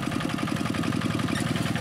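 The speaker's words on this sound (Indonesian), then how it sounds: "Di sini masih menggunakan diesel standarnya traktor ini, yaitu RD85DI2S dengan singkal bawaan pabrik." Kubota RD85DI2S diesel engine powering a Quick G1000 rice field tractor with its factory plough, running steadily at close range with a continuous chugging rhythm and no voices.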